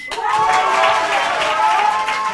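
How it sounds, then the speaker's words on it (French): An audience bursts into sustained applause and cheering for comedian Benjamin Pays as he takes the stage, a loud dense clapping wash from start to finish. "Je vous demande d'applaudir Monsieur Benjamin Pays."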